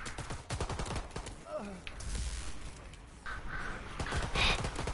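Video game gunfire rattles in rapid bursts of sharp shots at an enemy, loud and close, mixed with other game effects and a few brief tonal sounds throughout.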